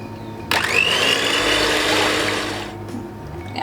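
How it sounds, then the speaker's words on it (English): An electric mixer whips egg whites toward soft peaks for a South African milk tart meringue, a loud steady whir that starts abruptly and runs continuously, then trails off near the end, with no talking. "We're taking the egg whites and you're just gonna keep on mixing it until it forms like soft peaks."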